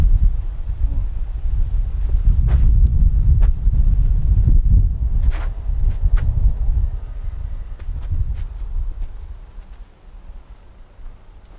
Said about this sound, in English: We see the wind picking up into the faces of our competitors here on this tee.